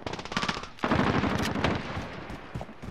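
Rapid automatic gunfire rattles in Call of Duty Modern Warfare, a loud close burst followed by a second sustained volley and a few trailing shots, with no talk.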